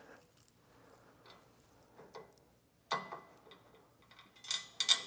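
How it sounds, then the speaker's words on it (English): Quarter-inch bolts for a TorkLift SuperTruss hitch extension bracket clink and rattle as they drop through the bracket, a few small metallic ticks and a louder jangle, close by and fairly quiet with no talking. "So we'll drop the bolts down through."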